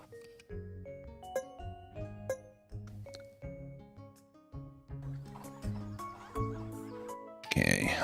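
A horse whinny in the fantasy video game Super Fantasy Kingdom, sounding over steady, plucky game music with a brighter, noisy burst near the end.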